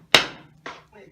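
The end of a broom handle strikes the nut of a split wheel on a Gravely walk-behind tractor: a sharp, loud knock, then a second weaker hit and a faint third tap, close up.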